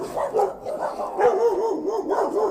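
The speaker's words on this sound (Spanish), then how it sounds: "Ahí los perritos se escucharon algo" Small dogs bark and yip repeatedly in a steady run of sharp calls lasting a few seconds, fairly close and prominent with no talk over them.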